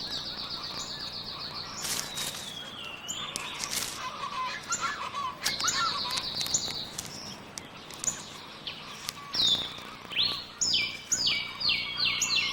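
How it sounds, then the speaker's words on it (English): Montezuma oropendolas call from a rainforest canopy in Guatemala, a busy chorus of liquid gurgles, bubbling notes and sharp whistles repeating over twelve seconds, with other birds chattering around and louder calls near the end. "The characteristic call and eye-catching display of Moctezuma's Ora Pendula rings through the canopy."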